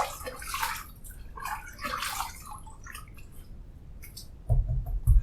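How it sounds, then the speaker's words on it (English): Water splashed and rinsed onto a face by hand at a sink before a shave, a few close wet splashes and drips followed by louder sloshing near the end. "Let me throw some water on my face, rather, and do our pre-shave lather."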